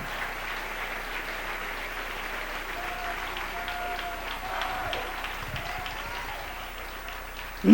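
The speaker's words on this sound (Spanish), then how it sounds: "Dele un aplauso al Rey." A church congregation applauds during a sermon, with steady, moderately distant clapping that continues evenly throughout and a faint murmur of voices beneath it.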